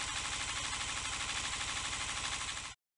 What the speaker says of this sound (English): And that's the sound of the machine.